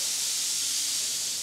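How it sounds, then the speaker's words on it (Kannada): A pressure cooker of mutton for biryani vents steam through its whistle as a loud, steady, close hiss with no break. "ಈಗ ಕುಕ್ಕರಲ್ಲಿ ವಿಷಲ್ ಕೂಗಿದೆ, 2 ವಿಷಲ್."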